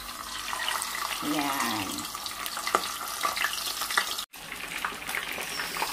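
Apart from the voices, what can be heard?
tilapia fish placed into hot oil, frying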